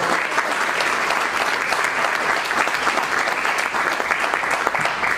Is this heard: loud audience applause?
yes